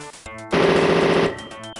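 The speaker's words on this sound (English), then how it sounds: "Or I want to empty out the gun." Automatic gunfire from a gun being emptied in the strategy game Power DoLLS: a loud, unbroken burst lasting under a second, framed by short mechanical clicks before and after, with no talk.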